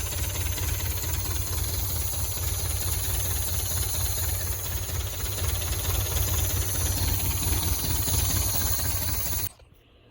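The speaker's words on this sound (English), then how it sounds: "Seems to be idling nicely." A 1977 MGB car engine idles steadily with a low, even rumble and faint knocking for about nine seconds, then abruptly cuts out and falls nearly silent.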